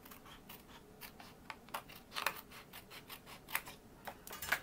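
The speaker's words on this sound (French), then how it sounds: "je vais venir couper mon petit bout" Quiet scissor snips cutting a small piece of card for a Christmas nativity triptych card, a series of light, brief crisp clicks and scrapes spaced irregularly, close and soft with no talking.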